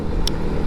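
Road traffic in Cambodia: a steady low rumble of cars and trucks driving along the road, with a short high hiss partway through. No one speaks.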